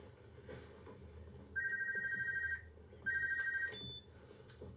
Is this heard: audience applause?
no